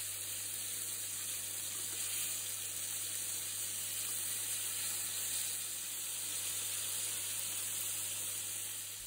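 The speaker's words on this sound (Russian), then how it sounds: "Обжариваем ее с обеих сторон до полной готовности." Fish sizzling as it fries on both sides in a pan, a steady hiss under a constant electrical hum, with no talking.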